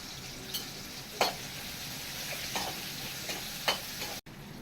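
Onions sautéing in a pan with turmeric and salt give off a constant soft sizzle, dotted with occasional light clicks and scrapes from stirring.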